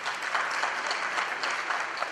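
A crowd applauds at an anniversary celebration in Abidjan before a prayer and blessing, steady, loud and close hand-clapping that fills the whole moment without any voices.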